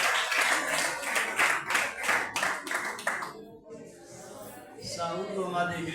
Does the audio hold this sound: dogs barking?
no